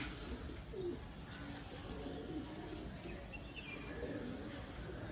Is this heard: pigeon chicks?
yes